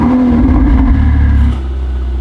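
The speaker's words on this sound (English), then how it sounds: "let's get the startup sound of this 488 with the stock exhaust" Ferrari 488 on its stock exhaust fires up with a loud, dense engine roar that holds steady, then drops to a lower, quieter idle rumble partway through as the valves close.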